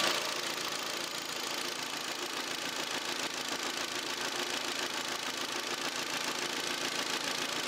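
A Kia K5 2.0 Prestige engine idles steadily, a close, even mechanical hum with a faint ticking texture that holds constant throughout with no voices.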